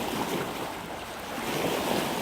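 Sea waves wash steadily near a derelict seaside fish-processing factory in Izola, a continuous broadband surf roar mixed with wind buffeting the microphone, with no voices.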